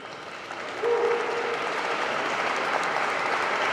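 Audience applause welcomes a double bass player at an album presentation at Mexico's Instituto Nacional de Bellas Artes y Literatura. It begins quietly and then swells into steady, dense clapping that keeps going to the end.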